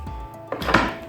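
A wooden cupboard door in a home workshop with a new dividing wall swings shut: a short creak, then a dull thump and a brief rattle, close and fairly loud, with no talk.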